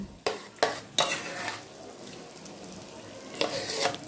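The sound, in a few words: adding beaten curd to frying chicken and stirring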